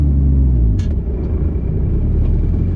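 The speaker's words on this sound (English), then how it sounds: "Now we're going to take off in first gear and see what this car's all about." A 2005 Ford GT pulls away in first gear, its engine rumbling loud and close with a deep, steady low roar and a brief rise in revs, no talking over it.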